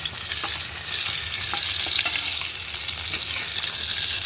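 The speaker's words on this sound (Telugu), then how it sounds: "చేపలు కూడా వేగుతున్నాయి చూడండి." Fish frying in a covered pan, a steady close sizzle and crackle with scattered sharp pops, continuous throughout with no talking.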